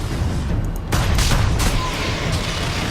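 Sustained gunfire from Warhammer 40,000: Space Marine, with Imperial Guardsmen being shot: a dense, continuous fusillade of rapid shots and booming bursts that swell around the middle, loud and alone with no talking.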